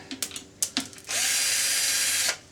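A power drill backs out screws from the rear bumper of an HPI Baja RC car, a few light clicks and taps, then one close, steady whirring run of about a second.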